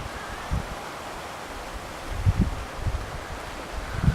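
Mild winter wind off the west moving through palm and tall eucalyptus trees on Salt Spring Island in Canada's southern Gulf Islands: a soft, continuous rustling hiss with a few low gusty buffets on the microphone.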